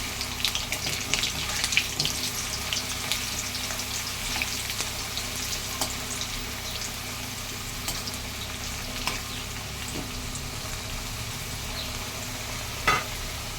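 Potatoes frying in oil in a pan, a soft steady sizzle with occasional crackles and a few clinks, fairly quiet and close, with no talking.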